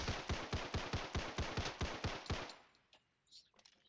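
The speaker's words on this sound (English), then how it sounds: "let's try Beretta 92X on these little fellers over here" Beretta 92X pistol fired rapidly, about ten sharp evenly spaced shots in quick succession, close and loud, then a pause with faint clatter and small knocks.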